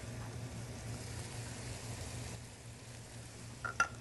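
Steady, low sizzle of meat browning in a pan for Bolognese, a soft continuous frying hiss with a couple of faint stirring clicks near the end.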